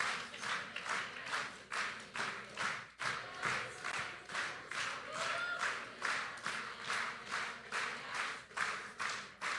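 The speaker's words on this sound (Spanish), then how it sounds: "Levante su voz. Aplaudiendo todos." A worship congregation claps together in a steady rhythmic beat, a dense, continuous wash of many hands held at a constant tempo throughout, with no clear speech over it.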